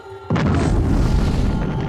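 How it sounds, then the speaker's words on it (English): A powerful explosion from a plane striking a building with gasoline in its engine, staged as a documentary reenactment of the Empire State Building crash: a sudden loud boom bursts in after a quiet moment and rumbles on heavily. "The impact of the plane, combined with the gasoline inside this very engine, creates a powerful explosion."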